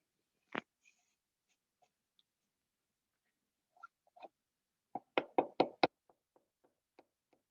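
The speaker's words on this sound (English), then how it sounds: "Using my bone folder to kind of knock it." A bone folder knocks down book cloth on a slip case: one sharp tap, a pause, a few light taps, then a quick burst of five or six firm knocks followed by softer scattered taps.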